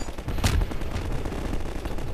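A single loud shotgun blast from the video game Half-Life 2, a sharp crack that decays quickly into a rumbling tail.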